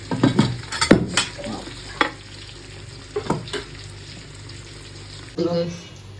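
Fish kebab sizzling and frying in oil outdoors, loud and close, with stirring clatter and bursts of spatter, while people talk over it.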